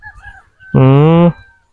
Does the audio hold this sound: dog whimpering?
no